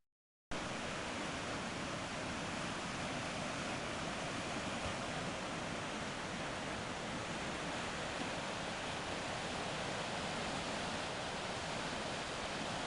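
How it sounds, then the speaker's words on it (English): Steady, dense rushing of a rain-fed stream flowing into a river, constant and fairly loud throughout with no pauses or voices. "This is what they call a stream. It's adding into the lake, the river."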